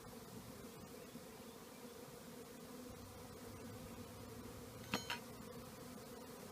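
Honey bees being moved from a nuc box into a deep hive give a faint, steady low buzz throughout, with a couple of soft clicks of frame handling near the end.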